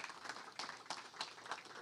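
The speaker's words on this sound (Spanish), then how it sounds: "Démosle palmas al Señor" A church congregation claps for the Lord at a Spanish-language service, a quick, steady run of hand claps, fairly faint and roomy, with no talk over it.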